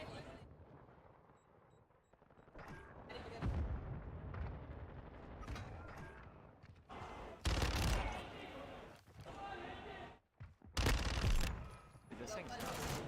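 Rapid bursts of Fennec SMG fire in the video game Modern Warfare 2 crackle in several loud clusters, mixed with other gunfire and blasts from the match, while someone talks between bursts.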